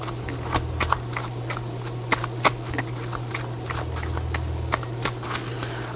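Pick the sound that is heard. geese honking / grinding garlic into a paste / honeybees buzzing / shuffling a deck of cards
shuffling a deck of cards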